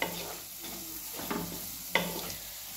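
Masala being dry-roasted and stirred in a pan for khar vangi (spicy brinjal), with turmeric, salt, garlic and ginger already added; soft continuous sizzle with a few sharper scraping stirs near the middle and end.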